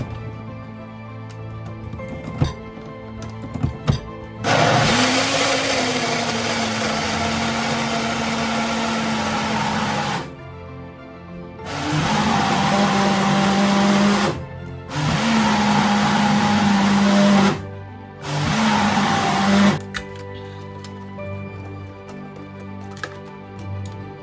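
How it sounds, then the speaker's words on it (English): Blender whirring through berries for a non-alcoholic cocktail, loud motor running in several bursts separated by short pauses, with quiet room sound between. "As well blend it when you want"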